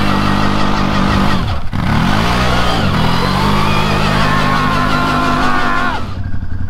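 A quad bike engine revs hard and loud right up close, holding a steady high drone with a brief dip before dropping off at the end.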